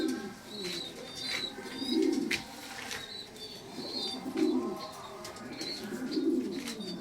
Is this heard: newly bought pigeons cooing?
yes